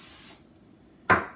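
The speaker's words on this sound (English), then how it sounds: "Spray the bowl," Cooking spray of olive oil is sprayed into a bowl while making pizza dough: a short hissing burst, then a pause, then a second brief, close spray.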